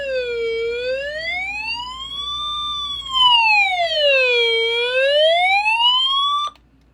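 An EoxSmile CR1009 emergency alert radio sounds a loud, close wailing siren that sweeps slowly up and down in pitch, getting louder midway, then stops abruptly near the end.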